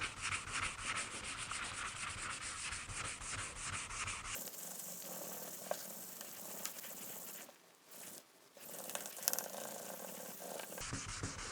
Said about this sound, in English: I'm going to switch to the soft sanding block for this area right here